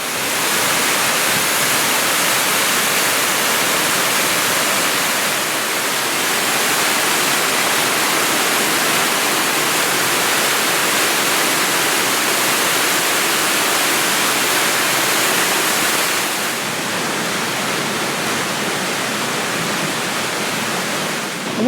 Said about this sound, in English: There's only a couple more little drops in the creek, and then it just turned into like a cascading creek line.